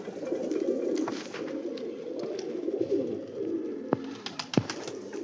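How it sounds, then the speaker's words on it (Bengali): A male Rampuri pigeon coos in a steady, rolling drone that fills the whole stretch, with a few sharp ticks and knocks near the end and no voices. "এই দেখেন একটা রামপুরি নর আছে"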